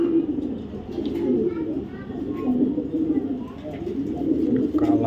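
A light-coloured male racing pigeon coos in low, rolling phrases close by, with people talking over it almost throughout and faint children's voices in the background.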